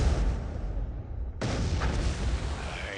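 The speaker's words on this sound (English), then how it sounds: "Explosion scenes directed by Michael Bay." A movie-trailer explosion effect erupts as a heavy, booming blast with a deep rumbling tail, then a second burst hits after a brief dip.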